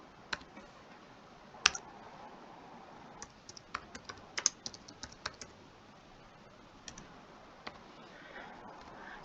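Typing on a computer keyboard while entering a number in an Excel spreadsheet, heard as irregular close key clicks in short bursts, some louder taps, over a quiet background.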